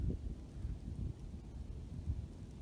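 Low, gusty wind buffets the microphone, rumbling in uneven bursts with no voices.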